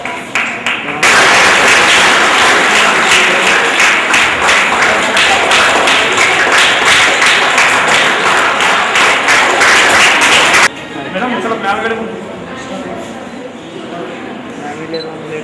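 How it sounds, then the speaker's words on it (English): An audience applauds loudly at an event in southern India, a dense wash of clapping that starts abruptly and holds steady for about ten seconds before cutting off, leaving quieter crowd murmur and scattered voices. "Please clap."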